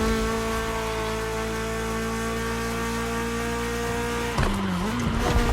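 A BMW E30 3 Series engine drones steadily in The Crew Motorfest, a smooth constant hum that holds one pitch and then dips and wavers briefly near the end.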